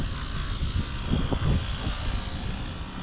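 An outdoor air conditioner unit at an apartment complex, running badly: a steady, rough, droning hum with a coarse rumbling texture that swells slightly midway, close by and with no talking.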